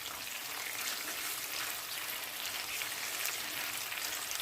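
Garlic prawn sauce boiling down in oil over a medium flame, a fine, steady hissing sizzle like light rain that holds at an even level, close by, with no voices.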